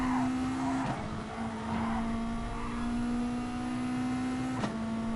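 A race car engine in Gran Turismo Sport holds a steady high whine through a corner near Ascari, with a couple of brief shifts or dips, continuous and moderately loud.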